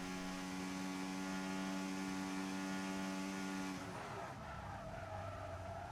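Race car in a Formula 1 video game at Belgium, a loud steady engine drone that breaks into a harsh skid in the second half, continuous and close.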